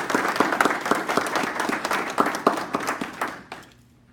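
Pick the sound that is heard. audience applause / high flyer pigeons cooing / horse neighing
audience applause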